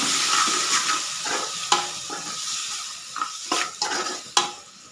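Boiled ivy gourd pieces stir-fried in a little oil in a pan, with a steady sizzle and several sharp scrapes and clinks of the spoon against the pan, close and clear with no talking.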